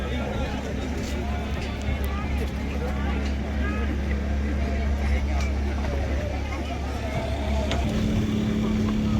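A boat engine drones steadily nearby, a low constant rumble under water wash, with people talking over it throughout, approaching the Sambranikodi island boat landing among mangroves.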